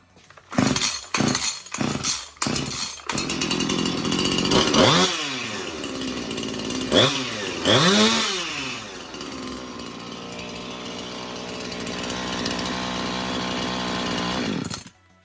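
A freshly ported Jonsered 2141 chainsaw sputters through several quick pull attempts, catches, and then revs up hard twice before settling into a loud, steady run nearby.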